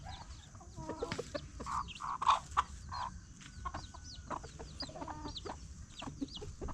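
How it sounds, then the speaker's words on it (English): Hens cluck and murmur while feeding on a construction site, giving a run of short, scattered calls and a few louder bursts near the middle over faint background noise, with no one speaking. "even chicken are eating. Or hens, I mean."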